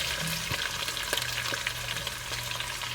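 Carrots, celery, bok choy and cabbage sizzle steadily in a hot stir-fry pan for vegetable noodles, a dense continuous crackle broken by a few sharp scrapes and clicks, with no talking.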